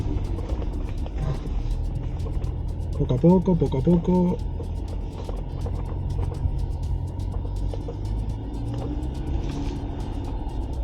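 A Jeep Wrangler Rubicon with a 272 hp, 400 Nm 2.0 turbo engine climbs an off-road slope, giving a low, steady engine rumble throughout while a person talks over it.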